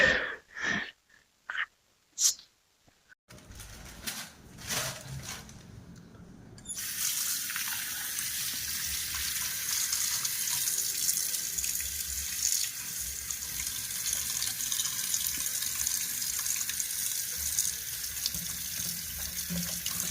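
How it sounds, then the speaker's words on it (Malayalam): Running tap water pours steadily into a sink while a goat head is rinsed, starting with a few short splashes and bursts before settling into a continuous, close, fairly loud flow. "അപ്പോഴും 3-4 വെള്ളത്തിൽ കഴുകി എടുക്കുകയാണ് നമ്മളെ ആട്ടിൻ്റെ തല"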